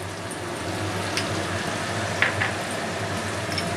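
Garlic paste fries in a pan for a Bengali-style crab curry: a constant rain-like sizzle, fairly close, broken by a couple of brief stirring scrapes.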